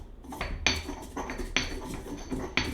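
Mortar and pestle crushing bay leaves, with three sharp grinding strikes of ceramic or stone spaced about a second apart and a scraping rub between them, close and fairly quiet.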